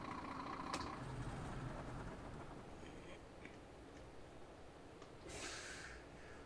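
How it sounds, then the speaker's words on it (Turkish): A Scania R540 truck sits quietly under a low cab hum, then its original brakes let out a single short, sharp burst of air hiss near the end. "Orijinal fren sesi."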